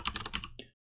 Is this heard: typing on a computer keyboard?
yes